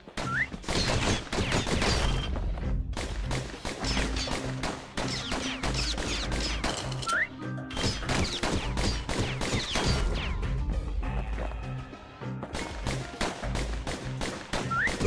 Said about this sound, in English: Those pistols could spit out rounds just as quick as you could pull the trigger.